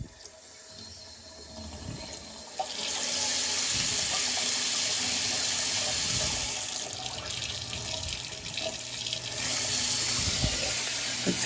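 Water runs steadily from a sink faucet in a house where the pipes bang when fixtures run. A soft trickle swells into a loud, continuous rush that holds to the end, with no talking.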